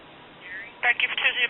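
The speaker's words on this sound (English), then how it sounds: "Give you some dial tone." Astral Telecom Galway Crystal telephone giving a soft steady dial tone, then a quick burst of loud, close dialing tones pulsing in rapid succession.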